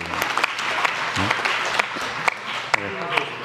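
An audience at a presidential science policy address breaks into applause, with scattered sharp claps and murmuring over the hall's ambience and a voice speaking through it.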